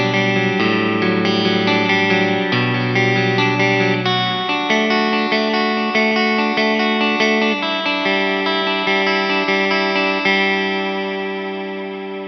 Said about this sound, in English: So I've just engaged some heavy cloud reverb stuff.